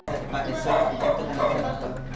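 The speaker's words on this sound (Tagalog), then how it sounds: "Ang ingay na aso." A dog barks and yaps repeatedly, close by and fairly loud, with people talking in the background.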